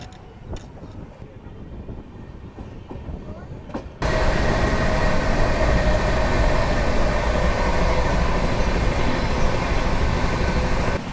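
A passing Seemanchal Express on an Indian railway rises suddenly into a loud, steady rumble of wheels and carriages after a few quieter seconds of ambient noise, continuing close and unbroken to the end.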